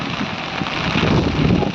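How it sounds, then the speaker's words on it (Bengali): Strong gusting wind from Cyclone Remal buffets the microphone in a broadband, continuous roar, loud and close throughout, with a rain-like hiss and no clear pauses. "প্রচুর বাতাস, মনে হচ্ছে ঘূর্ণিঝড় রেমাল এখন বগুড়ায় অবস্থান করছে,"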